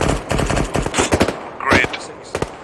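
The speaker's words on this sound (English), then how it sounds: "Bulldog 1, west gun run, break." Helicopter gun run in ARMA 3, with rapid bursts of machine-gun fire sounding close and loud, broken by short pauses and sharp impacts, with faint radio-style voices now and then.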